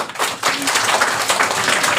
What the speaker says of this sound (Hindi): बहुत बढ़िया, तालियां बजाइए इनके लिए